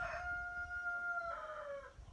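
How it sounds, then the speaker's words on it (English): A rooster crows once in a long, drawn-out call with a steady tonal line that bends down at the end, fairly close and clear over a faint background hum. "the rooster sounds excited"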